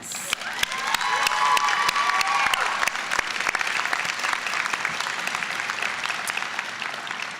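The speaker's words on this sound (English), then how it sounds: "You definitely deserve a round of applause." An audience at the Piedmont Virginia Community College 2018 nursing pinning ceremony breaks into loud, sustained clapping with scattered cheers and whoops, holding a full, even level throughout.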